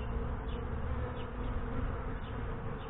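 A swarm of honeybees buzzes steadily and fairly loudly at close range as the insects crawl into a box, a dense continuous hum with no voices.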